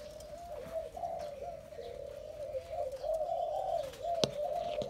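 A captive Malaysian spotted dove cooing in a soft, steady, low murmur, with faint background noise and no talking.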